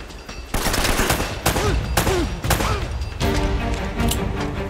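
Shotgun gunfire in Uncharted: Drake's Fortune on PS4, several loud, sharp blasts spaced about half a second to a second apart, dense with rattling echo and game action between them.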